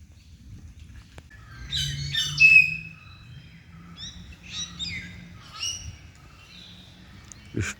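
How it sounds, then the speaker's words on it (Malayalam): Birds chirp and call among the trees in hilly Munnar, with a series of short, bright tweets and trills coming in bursts at moderate distance over a low, steady outdoor rumble. "ഇഷ്ടം പോലെ പക്ഷികളുണ്ട് കേട്ടോ ഇതിൻ്റെ ഇടയ്ക്ക്. അതുങ്ങളുടെ സൗണ്ടാണ് ഇപ്പോൾ കേൾക്കുന്നത്."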